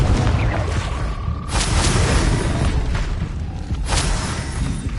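Two loud, sharp blasts from the Confringo fire spell in Hogwarts Legacy, a few seconds apart, over a steady rumbling backdrop.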